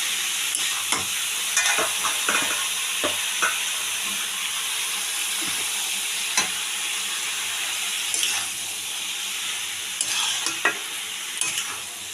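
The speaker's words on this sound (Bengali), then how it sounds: "আমি এবার আর একটু নাড়িয়ে চাড়িয়ে দিয়ে দেবো আমি বাঁধাকপিটা" Cabbage frying in a pan while being stirred, giving a dense continuous sizzle with scattered scraping clicks of the spoon, close and steady throughout.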